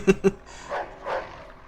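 A dog in the video game Mafia II gives two quick sharp barks, then a softer whining, whimpering tail, fairly close and clear with no speech over it.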